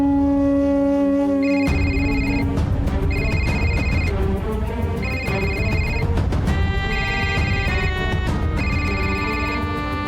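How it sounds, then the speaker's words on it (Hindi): An electronic ringtone of a phone that keeps receiving calls repeats in regular bursts of bright tones, loud and close over a dense, rumbling background score in a Hindi TV serial scene. "ये औरत बार बार फोन कर रही है।"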